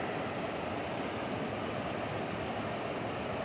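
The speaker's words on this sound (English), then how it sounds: "down here at the river" A river flows steadily in a dense, even rush of water, continuous and fairly close, with no voices over it.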